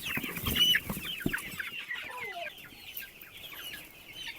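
Several chickens, including naked necks, Master Greys and broilers, cluck and chatter in quick, overlapping bursts, with one louder squawk near the start, close by and steady throughout.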